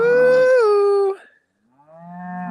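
Cattle at a farm being moved to fresh grass, one long loud moo followed after a pause by a second lower, rising moo, close and clear.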